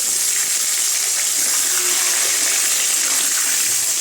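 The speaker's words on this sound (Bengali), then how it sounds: "আলুগুলো একটু এবারে লাল লাল করে ভেজে নেব" Cut potatoes frying in hot oil with two bay leaves, a dense, even hiss of sizzling that holds steady and fairly loud throughout, with no voices.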